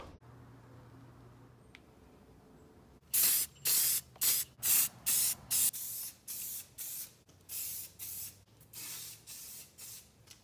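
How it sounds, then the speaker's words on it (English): An aerosol can sprays gloss black paint and clear coat onto mower pulleys, a series of short sharp hissing bursts, first quick and evenly spaced, then longer, close and loud over a quiet background. "I'm using gloss black and crystal clear coat."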